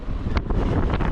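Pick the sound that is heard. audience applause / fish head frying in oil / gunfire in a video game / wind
wind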